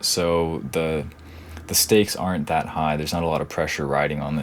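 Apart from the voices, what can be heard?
No everyday noise stands out behind the speech.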